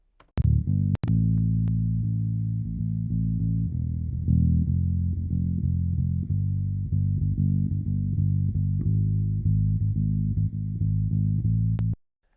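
A raw direct-input bass guitar track playing sustained low notes loud and continuous for about eleven seconds, with a fizzy, hissy edge in the upper range and a few sharp clicks at the start and end.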